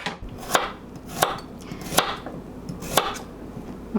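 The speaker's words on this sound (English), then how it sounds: "When I get to the thicker, woodsier part of the carrot, I cut it in halves or quarters." A knife chops carrots on a cutting board in five crisp, evenly spaced strikes, close and clear, with no voices over them.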